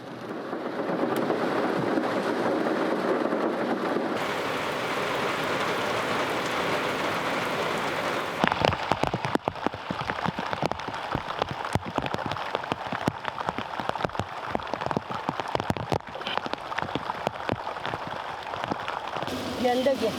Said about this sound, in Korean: 폭염 끝에 바로 폭우가 이어집니다.